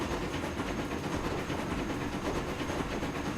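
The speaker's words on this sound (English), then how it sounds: "we've seen the Mallard pulling into this station" The Mallard steam locomotive in the Train Fever video game pulls into a station, giving a steady, dense rolling rumble of wheels and rail noise that holds at an even level throughout.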